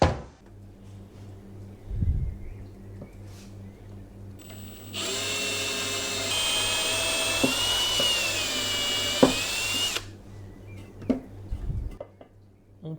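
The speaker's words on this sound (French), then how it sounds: "On perce la partie métal." A power drill bores a 6 mm hole into a metal part. A steady high-pitched whine runs for about five seconds in the middle, with quiet workshop knocks before and after.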